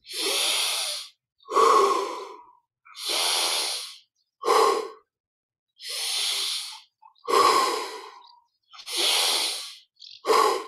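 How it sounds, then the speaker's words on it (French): Slow, deep breaths during guided yoga meditation, with eight long, loud inhales and exhales alternating at a steady, unhurried pace. Each breath stands alone, close and clear, with brief silences in between and no talk. "un petit peu plus d'amplitude dans l'inspire. Et dans l'expire."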